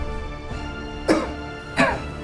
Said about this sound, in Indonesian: Bapak, kenapa sih batuknya nggak sembuh?